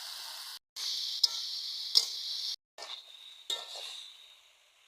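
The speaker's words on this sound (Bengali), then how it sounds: "চালতাগুলো কড়াইতে দিয়ে দিচ্ছি হালকা করে ভেজে নিতে হবে চালতাগুলো" Elephant apple pieces fry in oil in a wok, a faint, broken hiss in short bursts separated by brief silences, with a couple of light clinks, fading out at the close.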